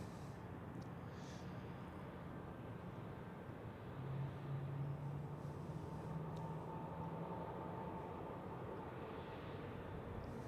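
A brand new Austrian airliner at Zurich Airport on a crosswind day, its engines giving a steady, broad roar that holds at a moderate distance throughout, with no talk.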